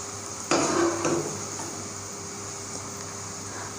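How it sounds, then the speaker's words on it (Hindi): Macaroni kurkure frying in oil while a spoon stirs and flips it, a burst of scraping and sizzling near the start, then a quieter steady fry with occasional light clinks. "अब हम जो है इसमें चम्मच लगाते हैं और इसको हम उल्ट पुलट करते हैं थोड़ा सा"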